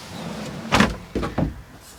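Doors on a Challenger X150 camper van are pushed shut, one solid thud followed by two quicker clunks, close and loud in a quiet interior.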